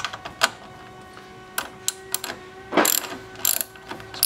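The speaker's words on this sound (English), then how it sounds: "We'll use a 13mm wrench." A 13mm wrench loosens the nuts on the side panel of a GS3 espresso machine, giving sparse, close metallic clicks and taps, with a short cluster of sharper ratcheting clicks near the end over a quiet background.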